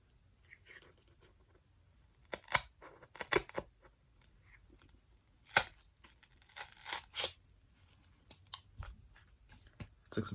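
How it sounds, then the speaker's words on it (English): Scissors cut a hole in cardboard with scattered crisp snips and tearing crunches, sharp and close, separated by quiet pauses, while making a cardboard M4 trigger. "Took some scissors, cut a hole in the top right here"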